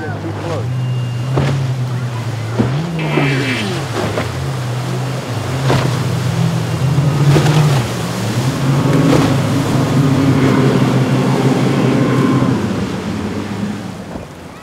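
Motorboat engines hum and rise in pitch against wind and rushing water at Haulover inlet, loud and fairly close, with faint voices in the background.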